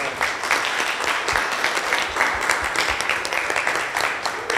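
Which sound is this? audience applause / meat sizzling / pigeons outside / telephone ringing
audience applause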